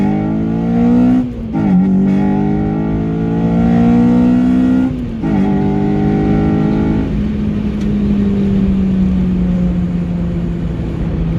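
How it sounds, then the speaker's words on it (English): Honda Civic Type R with an induction kit accelerating hard in second gear, engine note climbing steadily in pitch, a brief drop as it shifts, then a lower sustained drone; loud and close from inside the car. "the way the car pulls in second gear."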